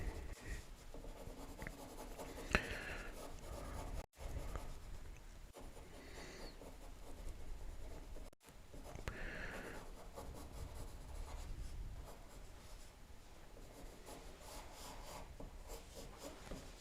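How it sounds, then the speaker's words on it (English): A pen sketches a palm tree on paper, giving a soft, continuous scratching and rubbing of nib on the sheet with short strokes and brief pauses. It sits close and quiet throughout, with no talking. "Let's just start drawing like a palm tree type thing here."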